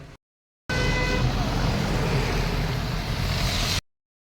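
Dense road traffic in heavy rain at Kodaikanal, a broadband wash of rain and engines filling about three seconds, with faint tonal honks of car horns near the start, loud and close after a brief silence.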